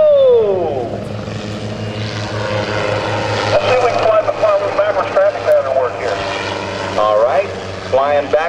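Helicopter flying at a 2009 naval air station airshow, a steady rotor and engine drone with low harmonic hum throughout, under a commentator's voice over the loudspeakers.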